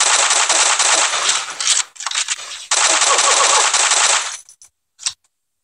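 Rapid automatic gunfire in the mobile shooter game Pixel Gun, two long loud bursts with a short broken gap between them, then a brief final shot.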